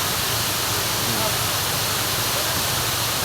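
A waterfall in Davao del Sur gives a constant, full rushing roar that fills the whole short stretch without a break.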